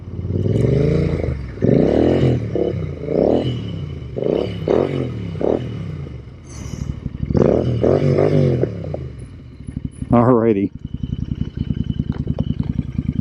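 A Royal Enfield Interceptor motorcycle engine revs repeatedly in rising and falling bursts, loud and close, then settles into a rough idle; a voice speaks briefly.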